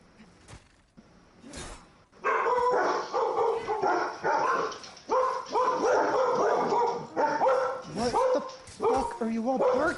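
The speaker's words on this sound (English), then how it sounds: "Just people walking down the street. You don't have to bark at them." Dogs barking at people walking down the street, with repeated loud close barks and yips in quick bursts, plus some whimpering, after a quieter start with a couple of sharp sounds.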